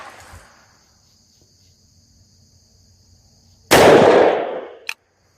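A Taurus Raging Hunter .500 Magnum revolver fires a single loud, sharp shot that booms and decays over about a second at an outdoor range, following a quiet stretch with faint insect chirping and a steady high tone.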